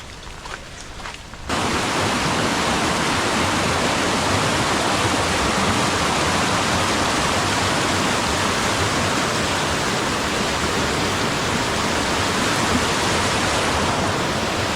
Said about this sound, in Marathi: खळखळणाऱ्या ओढ्याचा आवाज कसला भारी येतोय ना